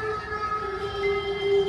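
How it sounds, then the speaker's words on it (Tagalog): Horror train ride at a fair: a steady rumbling ride with sustained tonal hums, like a siren or horn, droning continuously at moderate loudness, with no talking. "Horror train. Are you ready for this?"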